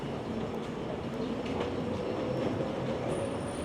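A Vancouver SkyTrain Millennium Line train passes through a busy station with a steady, loud rolling rumble and a faint high metallic squeal from the wheels. There is no talk.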